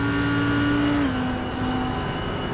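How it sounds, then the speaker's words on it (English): A GT Clubman race car in the iRacing sim at Zandvoort lifts off the throttle, its steady engine drone dropping in pitch and easing as it coasts along in fuel-saving mode, loud and close. "You can just hear the way he's rolling off that throttle"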